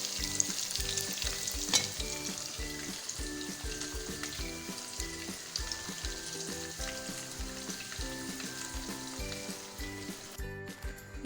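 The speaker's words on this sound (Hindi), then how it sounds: "ये सारी चिकन जो है वो अच्छे से फ्राई हो चुकी है" Chicken pieces for Kashmiri chicken curry sizzle steadily in hot oil, with a dense continuous frying crackle and occasional stirring scrapes, close and loud with no talking.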